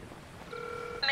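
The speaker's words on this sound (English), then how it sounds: "Making a phone call." Telephone dialing tones in the video game Metal Gear Solid 5 come as brief steady electronic tones over a soft hiss, the last one louder and brighter.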